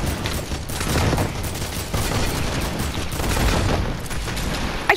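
Rapid gunfire in the video game Fortnite, at Tilted Towers, crackling in dense continuous bursts that stay loud through the whole stretch.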